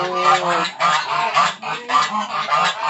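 Repeated nasal honking calls from Muscovy ducks on a farm, fairly loud and close, in several bursts with short gaps, no talking.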